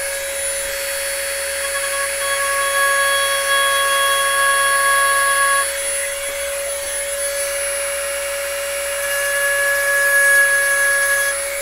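Dremel rotary tool engraving a skyline design onto a hatch, a steady high-pitched whine that holds for the whole stretch, loud and close, with slight shifts in pitch as the cut varies.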